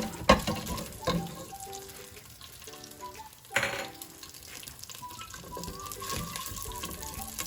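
Soft sizzling and crackling of tempering spices frying in hot ghee, with occasional clinks and stirring sounds, fairly quiet and steady.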